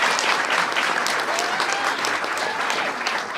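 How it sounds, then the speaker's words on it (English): A large audience applauds at a political event with the President of the United States, a dense, steady roar of clapping that holds loud and even throughout. "Give Deborah a big round of applause"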